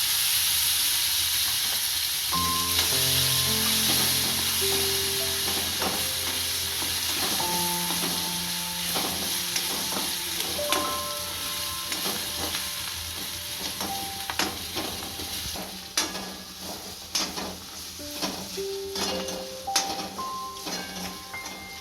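Ginger, chili and garlic paste sizzles steadily in a hot pan, a continuous frying hiss broken by scattered stirring clinks and scrapes, the sizzle easing slightly as it goes, with no voices.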